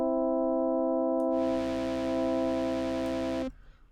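Steady synthesized tone with stacked harmonics processed through Ableton's Amp audio effect, a bright distorted band of noise joining after about a second and everything cutting off abruptly near the end, with no talking.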